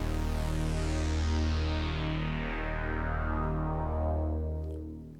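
OB-Xtreme synthesizer plugin playing its Grandioso preset for an 80s italo/synthwave track, a big sustained chordal pad with a bright, slowly darkening sweep, steady and full throughout with no voices.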